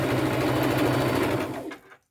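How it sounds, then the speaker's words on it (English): Sewing machine stitching black lace fabric, a steady fast motor whir with dense needle chatter running close and loud, then slowing and stopping near the end. "Lay that under my presser foot. Give it a little stitch."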